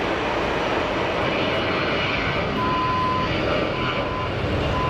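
A Piper PA-32R Saratoga light aircraft at Geneva airport drones with a steady, loud piston-engine roar, constant and unbroken throughout, with no talking.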